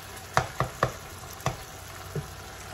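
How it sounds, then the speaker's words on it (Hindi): Tomatoes in a mutton karahi are mashed with a spoon against the pan, giving five distinct knocking thuds in an uneven rhythm over a soft sizzle. "और टमाटर को अच्छे से मैं मैश कर दूंगी।"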